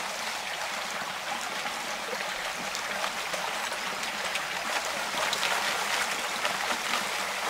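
River current washing through a gold pan during riverside gold panning, a continuous bright rushing and trickling of water, steady and fairly close, with no voices.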